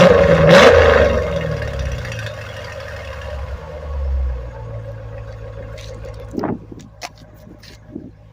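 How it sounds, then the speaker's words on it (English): A 2016 Dodge Charger with a V8 engine and manual transmission revs loudly up close, a deep rumbling burst followed by a second swell and a lower idle with scattered sharp clicks. "Now that's why us muscle car likers like our V8 engines, baby. I mean, just listen to it."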